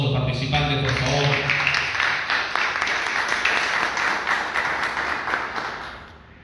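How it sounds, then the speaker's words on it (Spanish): An audience applauds contest participants at a provincial storytelling award ceremony, loud sustained clapping that follows a voice at the start and tapers off toward the end. "pido un fuerte aplauso para todos los participantes"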